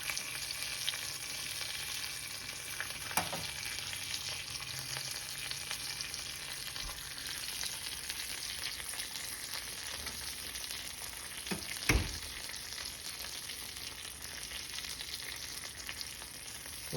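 A ribeye steak and garlic sear in a hot pan with a constant bright, hissing sizzle close by, broken by a couple of sharp utensil clicks and scrapes.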